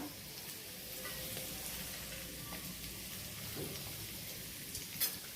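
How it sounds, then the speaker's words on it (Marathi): Peanuts, curry leaves and chillies frying in oil on low heat for a puffed-rice chivda, a faint, steady sizzle and crackle with a small clatter near the end. "छान तळून घेऊया आपण तेलामध्ये"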